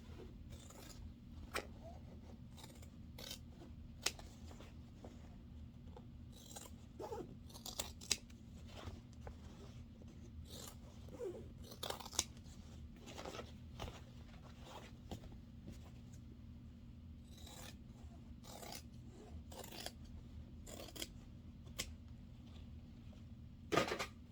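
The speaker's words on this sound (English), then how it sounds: "Now I'm just going to trim down my seam allowance to about 1/8 of an inch." Scissors snip steadily through the fabric seam allowance of a sewn garment, giving many faint, quick close-up cuts over a low steady hum, with no voices.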